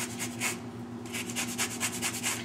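Fresh orange peel is scraped across a kitchen zester in soft, rhythmic rasping strokes, close and steady, with no talking.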